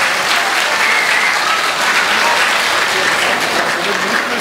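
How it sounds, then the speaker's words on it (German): A large audience breaks into dense, sustained applause at a formal welcome ceremony with Tibetan dignitaries, the clapping loud, close and even throughout. "Ein herzlicher Applaus bitte."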